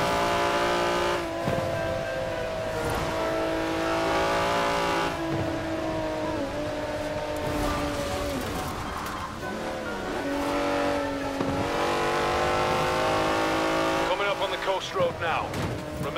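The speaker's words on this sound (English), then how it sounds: "That's a 90-year-old racing car. It's gonna take some handling." A 90-year-old racing car in the Forza Horizon 4 racing game, its engine revving and droning with shifting pitch and occasional tire noise, under steady commentary.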